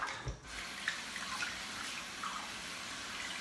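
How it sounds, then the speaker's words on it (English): Tap water runs steadily into a sink while an arm is rinsed off during a wet shave, a continuous close hiss of flowing water with a brief splashy disturbance near the start and no talk. "Let me rinse off first."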